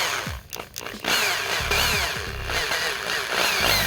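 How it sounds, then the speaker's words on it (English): A power drill whirs and revs in bursts while removing a wheel on a Honda Civic Type R, loud and close, its pitch rising and falling against a harsh mechanical background. "let's drill this bad boy"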